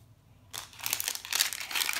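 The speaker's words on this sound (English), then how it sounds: "Keep on peeling." A foil or plastic wrapper is peeled off an LOL Surprise toy ball, starting after a quiet moment and continuing as close, bright crinkling and rustling.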